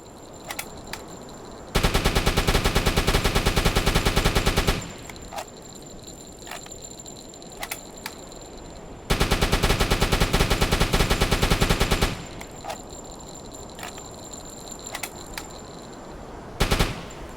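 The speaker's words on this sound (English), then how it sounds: "riddle that hole with a little bit of bullets" Heavy machine-gun fire from a U-boat riddling a ship's hull in a submarine video game, loud sustained bursts of about three seconds each, separated by quieter gaps with faint clicks, then a final short burst.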